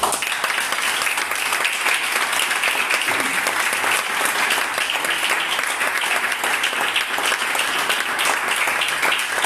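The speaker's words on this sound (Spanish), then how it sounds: "Dale un aplauso al Señor" A church congregation breaks into steady, dense applause, sustained and even from start to finish with no talking over it.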